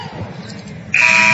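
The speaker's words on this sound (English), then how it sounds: "Waiting on the buzzer to sound, as you can hear it there" A basketball game buzzer at an NAIA Elite 8 game comes in suddenly after quieter arena noise and holds as a loud, steady electronic tone.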